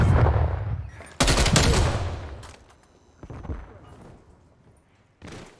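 AUG rifle fired in a shooter game: a loud close burst of rapid shots, then decaying rumble, with shorter follow-up bursts and quieter reports before a final blast.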